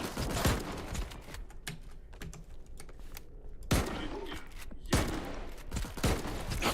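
Rapid gunfire in a shooter video game set near Pripyat, fairly quiet bursts of shots with a few louder blasts standing out, rattling on steadily without talk.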